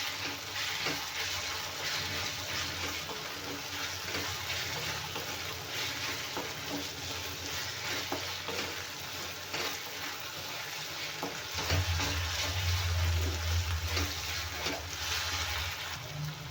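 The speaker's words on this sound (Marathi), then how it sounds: "आलं लसूण पण आपलं छान भाजलं आहे" Ginger garlic paste frying with onion and tomato for a veg soya keema masala, a steady close sizzle that never lets up, with stirring scrapes and a louder, denser burst near the end.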